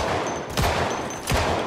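A pistol fires two sharp, close shots about 0.7 seconds apart in the zombie survival game Project Zomboid, over a steady hissing background.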